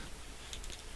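A few quick, light keystrokes on a computer keyboard while code is typed, faint and clustered together over a hissy room background.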